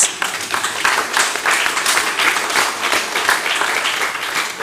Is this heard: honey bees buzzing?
no